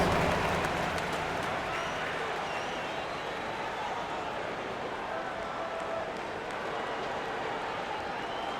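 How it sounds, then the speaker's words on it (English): A crowd's broad, continuous applause and cheering fills an NBA 2K25 basketball arena, steady and fairly loud throughout. "A round of applause."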